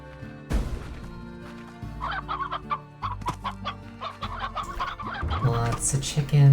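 Chickens in the video game Slime Rancher cluck in quick, choppy bursts against a droning game soundscape, steady and fairly close, growing a little busier toward the end.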